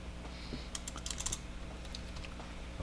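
Quiet bursts of typing on a computer keyboard, clustered rapid key taps over a steady background hum, with no talking.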